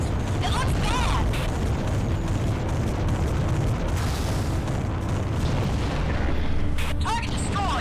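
Deep booming explosion of a destroyed target in the underwater combat game AquaNox, a dense continuous rumble with bursts and mechanical clatter, game voices speaking over it.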